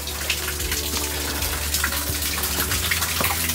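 Water gushes and splashes steadily from a tiny waterfall at an abandoned Japanese temple, a continuous close rushing flow with no one speaking over it.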